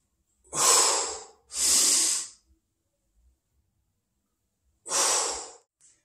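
Heavy breaths accompany a dumbbell Romanian deadlift with a Valsalva breath hold: two sharp loud breaths close together, a few seconds of silence while the breath is held, then one forceful exhale.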